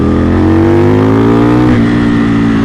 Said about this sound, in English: that engine, the fact that it pulls so strongly